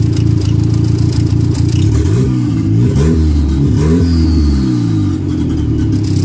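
A turbocharged Honda car running on Speeduino engine management revs while driving, a loud, close, steady engine drone with rising and falling pitch sweeps as it accelerates through gears.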